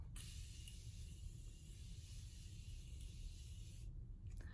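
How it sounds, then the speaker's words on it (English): A steady close-up hiss of Morphe Continuous Setting Mist spraying, one sustained burst lasting several seconds before cutting off. "we're going in with the best setting spray, and that's the Morphe Continuous Setting Mist"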